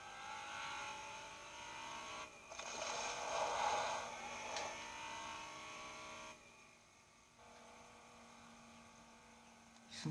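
A car drives by in the video game Fortnite with a low, buzzing engine drone that swells to a louder stretch in the middle and then fades back to a faint hum.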